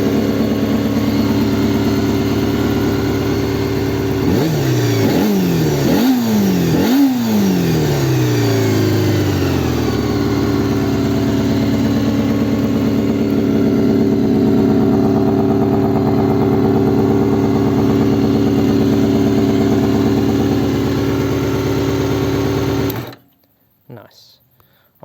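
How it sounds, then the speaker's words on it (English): A 1988 Honda CBR250R (MC19) four-cylinder motorcycle idles with a high, smooth hum, is blipped through several quick rising-and-falling revs, settles back to a steady idle, then cuts off near the end. "Love that idle. We'll give it a bit of a rev."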